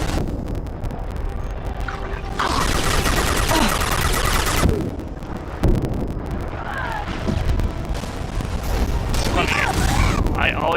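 Turret gunfire in the video game Mass Effect 2: dense, loud bursts of shots and booming impacts layered over continuous battle noise, with sharper cracks punctuating the barrage.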